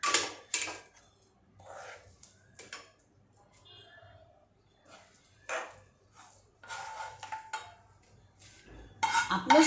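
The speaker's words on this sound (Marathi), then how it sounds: "आता हे सारण मी या डब्यात काढून घेतले" Metal utensils scrape and clink against a pan and a steel container while a sweet semolina, milk powder, fresh coconut, poppy seed and cashew filling is transferred, giving sparse close taps and scrapes with quiet gaps between them.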